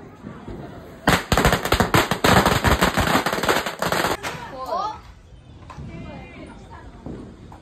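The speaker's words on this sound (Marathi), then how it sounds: "इथं फटाके लावायचा कार्यक्रम चालू आहे" Firecrackers set off during Lakshmi Puja celebrations, a rapid close string of sharp cracking bursts for about three seconds, then quieter scattered pops with a crowd of voices chattering around.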